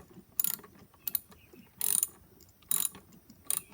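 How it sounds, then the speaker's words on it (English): A socket wrench ratchets a nut off the rear wheel of a Honda push mower, giving four or five short clicking bursts with brief gaps between them, close and clear with no speech. "Once you use that socket wrench to remove the nut,"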